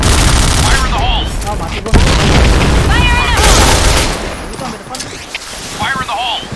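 Grenade blasts and gunfire ring out in a competitive shooter game, with booms and rapid bursts layered over excited voices calling out to teammates, loud and close throughout.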